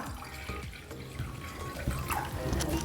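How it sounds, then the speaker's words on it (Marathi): Three cups of plain water pour steadily into a pan with a continuous splashing rush, close and fairly quiet, with no voices. "पॅनमध्ये तीन कप आपण पाणी घालूया"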